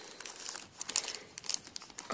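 Crinkling plastic packet holding lip balms with cocoa butter and pomegranate flavor being opened, soft irregular crackles and rustles close by, fairly quiet with scattered sharper crinkles.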